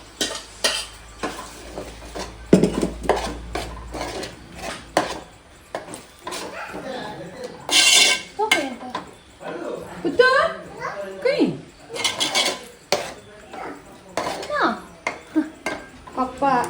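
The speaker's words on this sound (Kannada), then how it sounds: "ಮಸಾಲೆ ನೋಡಿ, ಆಗಲೇ ಗ್ರೈಂಡ್ ಮಾಡಿದ್ದು ಇದನ್ನು ಹಾಕುವ. ಇದನ್ನು ಫಸ್ಟ್ ಎಣ್ಣೆಲೆ ಫ್ರೈ ಮಾಡಬೇಕು." Ground masala frying in oil in a pan is stirred with a metal spoon, giving repeated scrapes and clinks over a soft sizzle, while several people, including a child, talk throughout.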